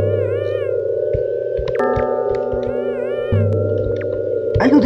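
Synthetic cat meow effect from the video game Yume Nikki, repeated stylized wavering mewing tones heard over a steady looping game music background, moderately loud throughout.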